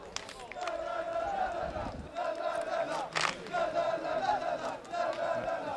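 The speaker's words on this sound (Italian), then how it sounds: "Qua vediamo la festa tifosi della Sibilla." Football supporters celebrating a home win, a dense crowd chanting and shouting together with rising and falling roars and bursts of cheering, loud and continuous throughout.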